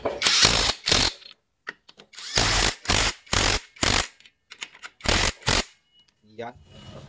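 Ratchet wrench tightening bolts on a Honda CB 110 motorcycle clutch assembly, heard as several bursts of rapid ratcheting clicks separated by short pauses, close and loud, with someone talking in between.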